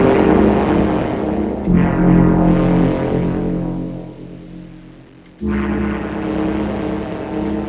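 Synthesizer tone processed through Elektron Octatrack effects, a loud sustained droning pad with steady low harmonics that thins out and fades near the end before cutting back in at full level, with no talking.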